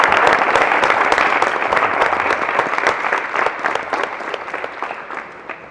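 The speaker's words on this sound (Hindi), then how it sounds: "तो फिर से एक बार शिव सर के लिए एक बार जोरदार तालियां।" Loud, dense audience applause at a car inauguration celebration, sustained throughout and slowly tapering toward the end, with no talking over it.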